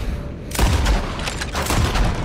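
Gunfire in the video game Red Dead Redemption 2, a loud sharp shot opening a dense burst of booming reports and echoes, close and heavy over about two seconds.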